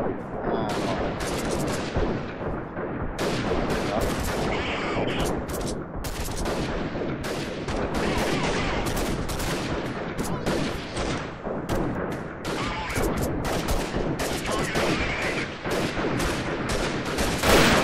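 Rapid, dense gunfire from the video game Freeman Guerrilla Warfare, loud bursts of shots fired almost continuously in an assault on a bandit camp.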